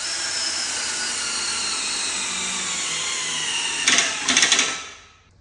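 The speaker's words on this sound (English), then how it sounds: "I'm going to bring the REVOLOK under tension. So once we have it snug, we'll flip it into setting number 1 and bring it all the way into clutch out" Cordless drill tensioning a REVOLOK 6600 chain binder, a steady close whine that ends in a few sharp ratcheting bursts as the clutch slips out, then stops.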